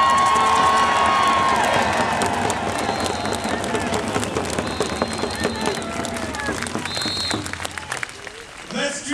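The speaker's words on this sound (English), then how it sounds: "I want to hear you give a great round of applause for yourselves" A crowd at an outdoor sit-in rally against a coastal pipeline bursts into sustained applause with cheers and whoops, voices calling out among the clapping as it gradually thins over several seconds.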